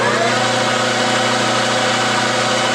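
A friction welding machine spinning steadily at about 1,000 RPM, a loud, continuous mechanical drone with a humming tonal whine and no break or speech.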